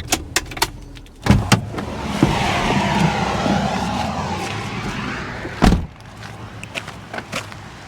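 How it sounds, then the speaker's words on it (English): A vehicle passes on a road near a riverside campsite with a broad rising and fading whoosh, framed by a few sharp knocks and clunks; no voices, steady outdoor hum underneath. "I actually personally don't mind the road noise."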